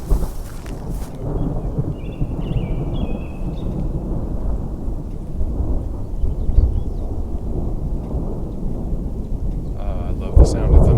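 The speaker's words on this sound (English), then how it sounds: "I love the sound of thunder." Deep thunder rolls on continuously after a torrential downpour in grizzly country, blended with steady rain and a few sharp knocks near the end, heard from inside a car.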